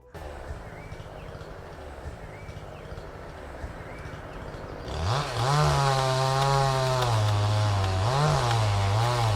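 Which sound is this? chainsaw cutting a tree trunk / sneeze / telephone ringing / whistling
chainsaw cutting a tree trunk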